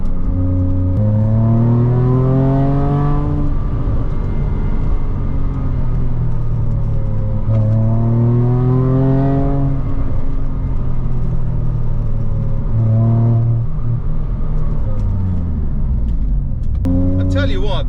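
A customer's car driving fast along country lanes, its engine revving hard in repeated rising sweeps as it accelerates through the gears, loud and close throughout, with a voice speaking over the engine noise.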